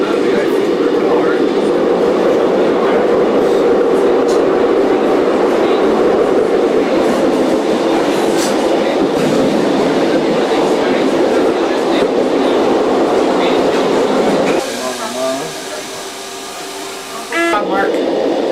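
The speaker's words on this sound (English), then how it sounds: "A double-decker train" A double-decker metro train in Paris runs loudly and continuously with a rushing roar and faint rhythmic clatter. The noise then drops briefly to a quieter mechanical whine with a few squeaks near the end.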